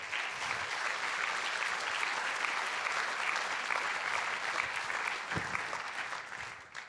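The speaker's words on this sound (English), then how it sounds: "How about we just do one more round of applause for all of the supporters?" Audience applause at an employee forum, a full continuous wash of clapping from many people, level and strong before tapering slightly at the end.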